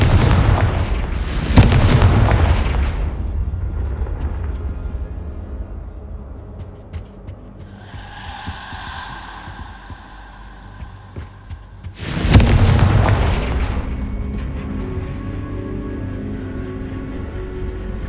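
Fire-spell blasts from Hogwarts Legacy on PS5, two loud booming explosions about ten seconds apart, each rolling into a long rumbling decay, with quieter tonal game ambience between them.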